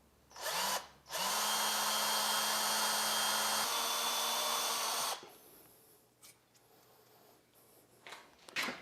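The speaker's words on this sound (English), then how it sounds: "And hopefully drill that without breaking the twist bit." A power drill with a twist bit bores a pilot hole in a Volkswagen Beetle engine part, in a workshop: a short burst, then a steady high whine for about four seconds that stops abruptly, followed by faint clicks and handling noises.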